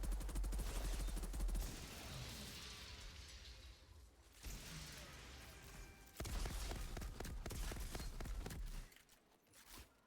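Rapid pistol gunfire in the shooter video game Outriders, a dense fusillade of sharp repeated shots in bursts with brief pauses, loud and up front with no talk over it.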